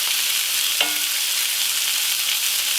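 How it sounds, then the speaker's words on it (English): Chicken pieces sizzle as they drop into a hot skillet, with a steady frying hiss and a brief clatter of food going into the pan, with no voices. "Put your chicken"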